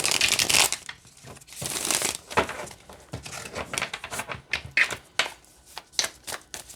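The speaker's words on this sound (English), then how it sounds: "So it's very nice to shuffle with because you're not fighting the cardstock." An Avisomnia tarot deck with flexible cardstock is shuffled by hand up close: bursts of riffling and shuffling cards alternate with brief pauses and softer crinkling handling.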